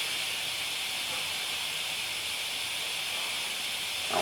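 Gas hisses steadily and evenly from a freshly opened valve on a fuel-fed appliance being checked for leaks, a constant broadband rush close by with no pauses.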